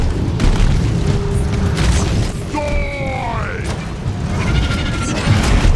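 Explosion in the video game Deep Rock Galactic, a dense low boom rumbling steadily through the clip with busy mechanical noise and some swooping tones on top, loud and close.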